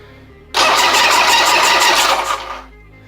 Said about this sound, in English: But that starter is ready, boy. Yeah, it's a gear reduction starter